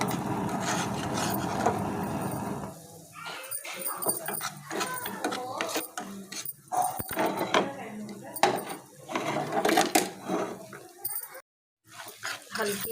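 A spoon scrapes and rustles through semolina roasting in oil in a pan, with a steady gritty stirring noise at first, then intermittent scraping under a voice.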